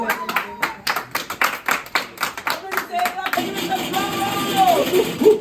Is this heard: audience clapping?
yes